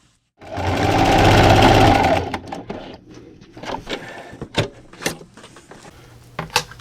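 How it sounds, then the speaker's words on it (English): A sewing machine stitches a quilted jumbo hot pad in one loud, steady run of about two seconds, then stops, leaving brief clicks and small handling taps of fabric and machine parts. "And then just keep sewing."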